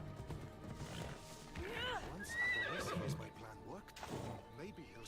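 A horse in the Assassin's Creed Odyssey video game whinnies and snorts, with hoofbeats clopping underneath and a voice talking over it.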